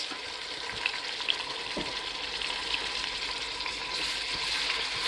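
Blended ginger and garlic stirred into a pot for Ghanaian-style chicken stew, a steady sizzling fry running throughout with a few soft scrapes of the spoon, close and moderately loud.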